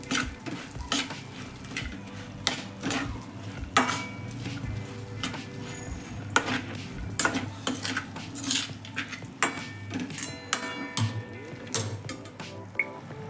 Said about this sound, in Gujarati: બધું જ સારી રીતે જલ્દીથી મિક્સ કરી લઈશું